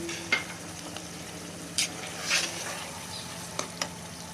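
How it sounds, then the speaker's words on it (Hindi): Mutton mince cooking with a cup of yogurt in a pot, a soft steady sizzle with occasional spoon scrapes and clinks against the pot, heard close up without talk. "अब इसको अच्छी तरह भूनूंगी"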